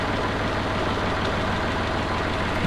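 A Massey Ferguson 135 tractor engine running with a few revs, a steady loud close diesel chug with rapid even firing pulses and no talk.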